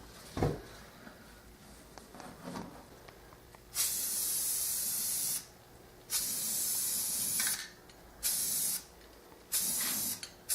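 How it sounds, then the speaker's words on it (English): Spray paint hisses through a stencil onto a boomerang in several loud bursts of one to two seconds each, separated by short pauses, with faint handling clicks between. "I'm now going to spray purple dots on it with this stencil."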